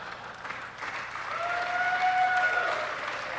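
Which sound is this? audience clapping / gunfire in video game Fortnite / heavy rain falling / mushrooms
audience clapping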